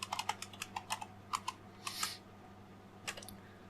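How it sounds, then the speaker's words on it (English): Quick bursts of keystrokes on a computer keyboard enter a password during a Linux install in a virtual machine, clicking in short irregular runs with brief pauses, fairly close and alone. "I got to type it again."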